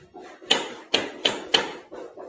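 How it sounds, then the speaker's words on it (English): A claw hammer strikes a 2x4 at a construction site, four sharp, loud blows in steady rhythm followed by two softer knocks, with no talking. "I'm reaching that claw of the hammer behind the 2x4."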